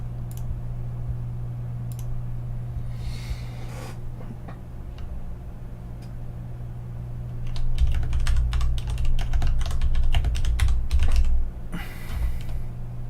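Keys clatter on a computer keyboard, first in sparse clicks and then in a dense burst of quick typing, heard close over a low steady hum with no talking.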